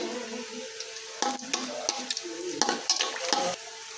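Dried red chillies fried in hot oil in a wok, a light sizzle broken by several sharp scraping and clinking stirs of a utensil against the pan, close and without speech.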